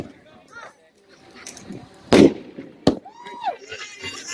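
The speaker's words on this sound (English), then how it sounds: "Has a nice thud to it." An Alien 500-gram firework cake fires outdoors at night, with two sharp, deep thuds about a second apart standing out over quieter ambient noise and faint distant pops.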